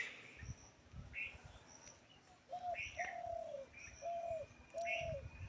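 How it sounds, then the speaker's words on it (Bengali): Birds in a quiet village countryside beside jute fields, with a pigeon or dove cooing in repeated soft low notes and other birds chirping brightly nearby, over a faint background hum. "পাখির ডাক শোনা যাচ্ছে।"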